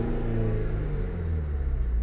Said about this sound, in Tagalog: naririnig naman natin mga kaalbularyo na may response ng makina during acceleration natin